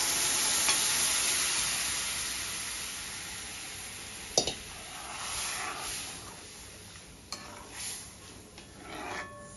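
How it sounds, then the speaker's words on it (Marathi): White kadhi poured into a hot pan sizzles and hisses steadily. A few sharp clinks of a utensil against the pan stand out, with light stirring scrapes between them and no one talking. "आणि कढी ओतून द्यायची।"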